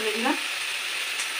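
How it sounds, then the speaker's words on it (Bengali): Shrimp hitting a pan of chili and spice paste cooked down with a little water, giving a steady close hiss and sizzle for about a second and a half, with no talking. "চিংড়ি মাছগুলো দিয়ে দিলাম"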